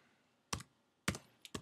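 Silver and gold prices are typed on a computer keyboard: three sharp, close key clicks spaced about half a second apart, the last a quick double tap, in a quiet room.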